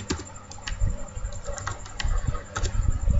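Fingers typing Python code on a computer keyboard, a close, irregular patter of sharp key clicks with a few louder strikes, nearly alone with no talk over it.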